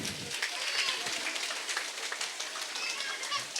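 A crowd at a spiritual gathering at a meditation hall in Mandapeta gives a swamiji a dense, steady round of applause; the clapping fills the room evenly, with faint voices mixed in underneath.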